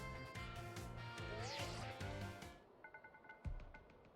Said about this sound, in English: Michelle, your phone's ringing.